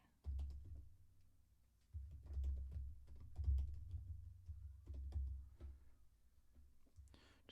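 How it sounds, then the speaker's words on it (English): Quiet keystrokes as an email address is typed on a computer keyboard, in scattered bursts of soft clicks over a low background rumble. "Just make sure I typed in accurate address"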